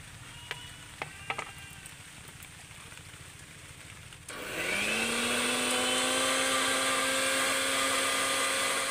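A mixer grinder starts up partway through and runs steadily at high speed, blending boiled drumstick (moringa) leaves into a paste; loud, continuous whirring after a few quiet clicks.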